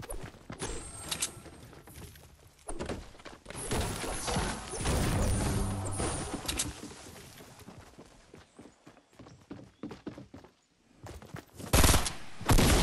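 Shotgun blasts and gunfire in a Fortnite match, loud repeated bursts scattered through the clip with crashing impacts, the heaviest shots coming near the end.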